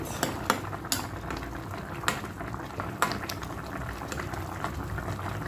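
Pompano fish simmering in a tomato stew, a dense bubbling boil with intermittent clicks and scrapes from stirring, close and steady with no voices.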